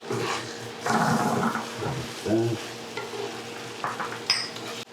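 Baked beans in their liquid are stirred in a pan, giving soft wet scraping and bubbling sizzle close by, with short bursts of stirring and a clink near the end.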